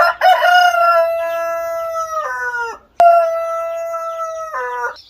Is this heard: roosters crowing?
yes